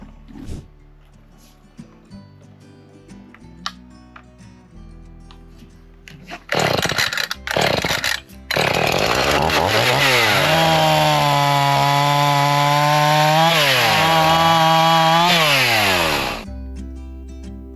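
A chainsaw starts and stops, then revs loudly and steadily as it cuts firewood outdoors in Newfoundland, its pitch dipping under load before cutting off.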